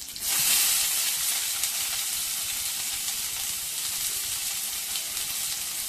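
Finely chopped onion with curry leaves and cardamom sizzles in a hot oiled pan, a loud, steady, close frying hiss that flares at the start and then settles, with no talking.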